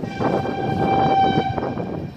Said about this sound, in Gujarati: એમાં પાછી અમારે લોકલ ટ્રેન જાય છે